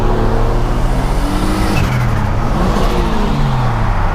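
A 2018 Honda Civic Type R races a 600 hp turbocharged 2006 Accord V6 with a six-speed manual, engines roaring loudly and steadily with overlapping rising revs and a gear-change dip midway.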